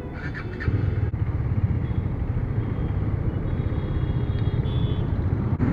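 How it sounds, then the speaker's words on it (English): A KTM Duke 250 motorcycle on a showroom test ride gives off a steady, moderately loud engine drone with road rumble that holds evenly throughout, no talking. "Test ride on Duke 250, which is long awaited, has finally started."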